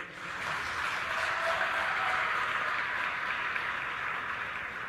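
Applause from a large crowd at a Meri Mati Mera Desh ceremony in Mumbai, heard as a steady, distant wash of clapping that swells slightly and holds for several seconds.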